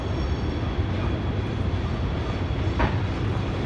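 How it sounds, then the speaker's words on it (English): Steady rumbling of two trains passing at once on Horseshoe Curve, a broad continuous roar of wheels on track with a brief squeal partway through. "Where you not only get one train, but two at the same time."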